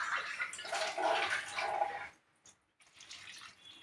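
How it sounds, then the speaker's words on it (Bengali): Water poured into a pan of cooking thankuni greens and eggplant, a steady rushing pour for about two seconds, then a pause and a softer trickle near the end. "এবার আমি জল দিয়ে দেব"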